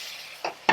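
Zucchini is stir-fried with red chili and green onion in a pan, giving two brief scraping, sizzling stirs close by over a faint background hiss.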